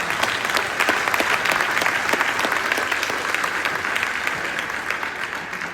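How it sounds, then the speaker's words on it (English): A crowd at a mayor's remembrance event gives a round of applause for the Bowser family: steady, dense clapping from many hands, loud and close, holding evenly throughout without speech. "So give them another round of applause."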